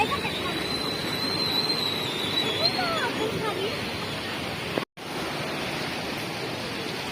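A flooded Ganga river rushes past in a continuous broad roar, with rain falling and faint voices and chatter mixed into the steady water noise, broken by a sudden momentary cut.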